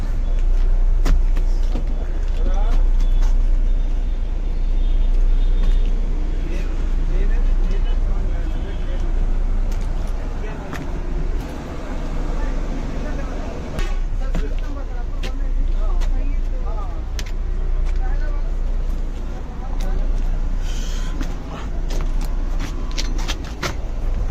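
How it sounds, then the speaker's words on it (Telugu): Kaveri sleeper bus travelling from Vizag to Hyderabad, a steady low engine drone and road rumble heard from inside the cabin with rattles and clicks, under a voice talking throughout. "ఇది కావేరి బస్సు హైదరాబాద్కు బయలుదేరుతున్నాము"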